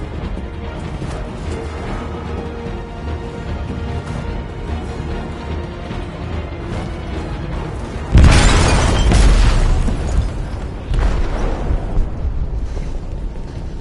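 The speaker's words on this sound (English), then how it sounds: "They detonated an explosive in the hold." A bomb detonates in a ship's hold in Detroit: Become Human, a sudden loud, deep boom with a crashing roar that rolls out over several seconds, followed by a second rumbling surge over a low, steady game backdrop.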